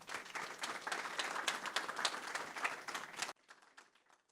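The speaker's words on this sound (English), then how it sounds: "I want to give us all a round of applause" An audience at a community meeting gives a round of applause, a dense burst of clapping for about three seconds that drops abruptly to a quieter scattered tail.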